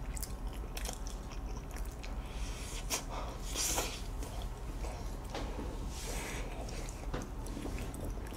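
Sweet potato and red bean cookies are bitten and chewed close up, with crunchy bites and moist mouth sounds recurring in bursts over steady breathing.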